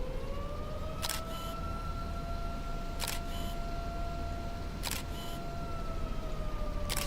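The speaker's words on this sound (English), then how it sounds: "The sirens are going even though it's not even close to the town." Tornado warning sirens sound in the distance during a storm outbreak. Their long, steady tone slowly rises over rough wind noise, broken about every two seconds by sharp camera shutter clicks.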